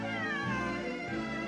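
A cat in the video game Genshin Impact meows in a drawn-out, wavering, slightly whiny call, loud and close, with game music humming underneath.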